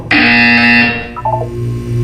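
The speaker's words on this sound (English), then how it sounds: "When you hear the buzzer, look down at the floor." A loud, sustained electronic buzzer from the video game Portal 2 blares for under a second, then gives way to a few short, softer chiming tones over a low background hum.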